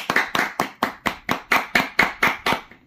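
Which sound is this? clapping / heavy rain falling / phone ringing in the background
clapping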